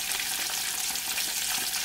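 Capelin (shishamo) fry in a pan of oil, giving a loud, dense and steady sizzle with crackling that carries on unbroken with no talk over it.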